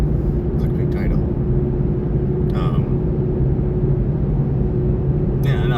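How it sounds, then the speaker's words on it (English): Car interior noise on a drive to work, a steady low road rumble and engine drone filling the whole stretch, with a few faint clicks and rustles on top and no talk. "so it's car noises going on right now"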